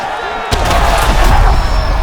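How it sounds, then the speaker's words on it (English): An arena crowd in EA Sports UFC 5 roars suddenly after a fight-ending shot, a loud, dense surge of cheering that holds steady to the end. "Crowd loving it."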